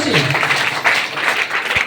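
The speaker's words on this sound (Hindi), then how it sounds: "जबरदस्त तालियों से" A seated crowd at a business meeting gives loud applause, a close, brisk patter of many hands with a short voice at the start.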